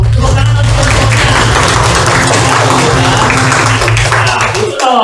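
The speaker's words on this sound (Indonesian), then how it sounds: "Tepuk tangan untuk semuanya." A fifth-grade class bursts into loud, dense clapping that fills the room, with children's voices and chatter running underneath the applause.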